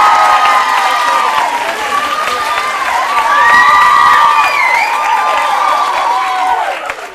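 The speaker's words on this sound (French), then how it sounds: "Je vous demande de l'applaudir." A TV quiz-show studio audience applauds as a guest, a physics and chemistry teacher, walks on: loud sustained clapping mixed with cheers and high whoops, filling the room for several seconds before easing off.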